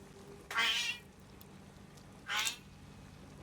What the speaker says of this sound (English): And of course, now the cat is yelling at me.